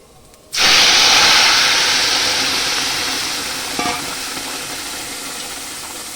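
Lentils for a paneer veg dal drop into a pan of frying ginger and set off a sudden loud sizzle. The steady hiss then slowly eases over several seconds, with a brief clink partway through.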